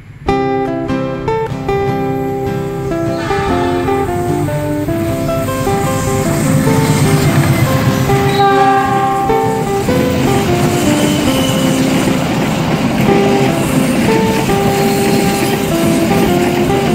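An Argo Parahyangan passenger train hauled by a locomotive goes by, a steady loud rumble of rolling wheels running throughout, with strong tonal overtones from the locomotive horn or engine early on.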